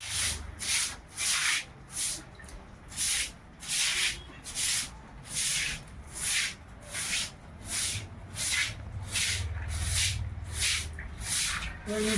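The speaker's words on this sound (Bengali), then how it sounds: "মুছিয়ে নেবো জায়গাটা" A cloth wipes and rubs a kitchen counter after dishwashing, in rhythmic back-and-forth strokes, about a dozen close, steady swipes with no talking.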